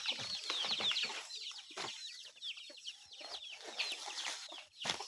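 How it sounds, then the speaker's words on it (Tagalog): Several chickens cluck and squawk continuously nearby, a busy chorus of overlapping calls with occasional louder cries. "Oh, dahan kay mga manok."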